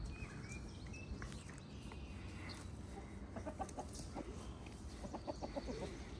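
A rooster and seven hens cluck faintly in the evening near geese by a fence. Scattered soft clucks come in the second half over a steady, distant background hiss.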